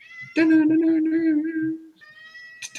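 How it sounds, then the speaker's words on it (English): A cat gives a long, loud, drawn-out meow close by, followed by a shorter softer mew, with a brief human voice sound alongside. "There's a cat in the dungeon."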